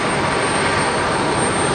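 Jet engine roar from a Delta A220 airliner on its takeoff roll at LaGuardia during a heavy rainstorm, a steady broadband rush that holds loud and unchanging throughout, with no voices over it.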